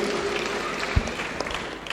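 Applause for Susan: a short spell of steady crowd clapping, fairly faint and even, with one slightly sharper clap partway through.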